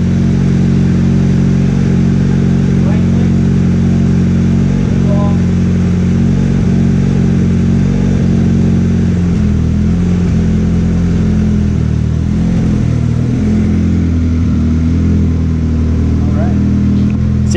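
A stock Honda Integra making 85 horsepower accelerates, its engine loud and close with a steady, rising mid-pitched drone that holds for the whole stretch.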